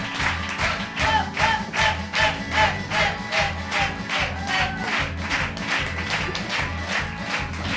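A live show audience bursts into loud applause, with rhythmic clapping and cheering rising and falling in waves across the whole stretch.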